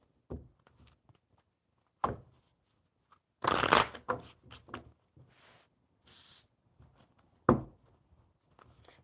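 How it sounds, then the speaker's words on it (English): Tarot cards being shuffled by hand, several separate riffles and slides with quiet pauses between, close and crisp in a quiet room. "I will just continue to shuffle these until Raymond gets his question in there."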